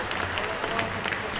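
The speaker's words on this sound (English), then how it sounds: "this is a massive round of applause for Dave Wabbles" Crowd applause at a darts festival open on the Isle of Man, a steady wash of many hands clapping for a departing player, filling the short stretch without a break.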